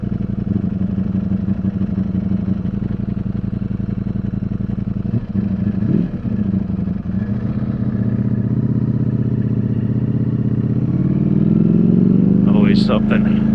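A 2022 Ducati Streetfighter V4S engine runs with its rear cylinder shut off, a loud, close, throbbing rumble that holds steady and then rises in pitch as the revs climb near the end, with a rider talking over it.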